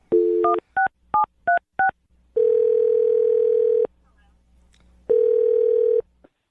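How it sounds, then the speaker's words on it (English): A telephone number is dialed on a phone, a rapid series of short touch-tone beeps followed by two long, steady ringback tones separated by a pause, clear and close. "I'm going to dial her phone number right now"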